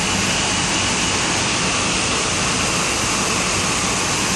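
Water rushing under a bridge along a canal in Bangkok on a rainy morning, a steady loud broadband roar of flowing water filling the clip without a break.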